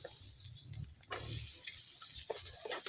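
Chopped onions hitting a hot pan in a home kitchen give off a steady broadband sizzle and hiss, close and continuous, swelling louder partway through with a few faint stirring clicks underneath.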